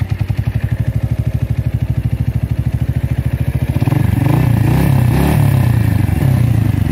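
A Keeway Cafe Racer 152 motorcycle cranks with a rapid, even starter chatter that catches about halfway through and settles into a loud, close, steady idle, with no talking.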